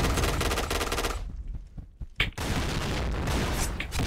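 Rapid automatic gunfire from the shooter video game Point Blank, a loud sustained burst that cuts off briefly, then resumes with a sharp blast and continued dense firing.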